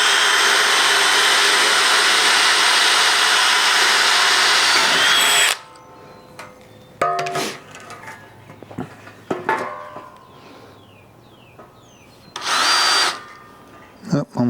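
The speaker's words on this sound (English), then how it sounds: "we'll just connect the dots with the grinder" An angle grinder cuts along marked lines on the steel frame of a 1976 Jeep CJ-5, a loud close whine for about five seconds, followed by quieter handling clatter and another short burst of grinding.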